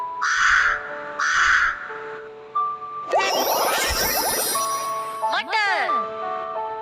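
A crow caws twice, harsh and close, then a voice imitates the caw alongside jingling, chiming electronic tones.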